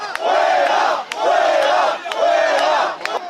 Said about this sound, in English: An angry crowd pelting the king and queen with mud and insults